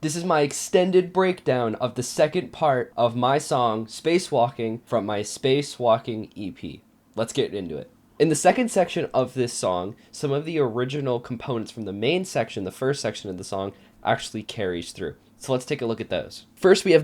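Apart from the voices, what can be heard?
No everyday noises stand out.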